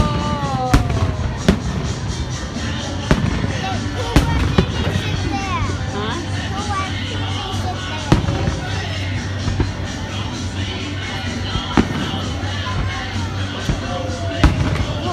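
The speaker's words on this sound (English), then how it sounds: "we were at the fireworks, which I'm going to show right now" Fireworks bursting in Chicago, with sharp explosions cracking at irregular intervals over a continuous crowd murmur and nearby voices.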